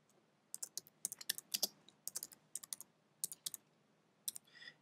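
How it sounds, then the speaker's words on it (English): Fingers type on a computer keyboard while entering a new user name during Windows XP account setup, quick irregular bursts of crisp key clicks with short pauses, close and clear with no voices. "we'll just type in a name for the new user"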